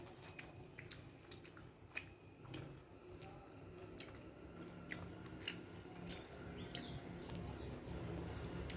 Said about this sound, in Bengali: চিকেন চপ খাচ্ছে